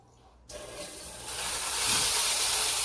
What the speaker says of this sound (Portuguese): Ligando o chuveiro.